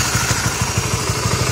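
A Honda Wave 125 motorcycle engine, with its tensioner replaced, runs close by with a loud, rhythmic low chugging and a faint clattery texture, no voices present.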